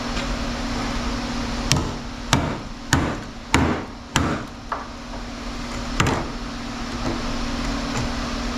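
A heavy toroidal transformer is struck with a hammer to break it apart: about six sharp metallic blows in an uneven rhythm, then a final one after a pause, over a steady hum.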